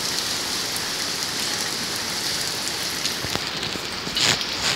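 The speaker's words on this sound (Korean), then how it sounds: "자, 소리 들리십니까 여러분? 우박입니다." Hail pelting down outdoors as a storm shifts toward rain, a dense, steady hiss of countless small impacts with a few sharper nearby cracks toward the end, no voices.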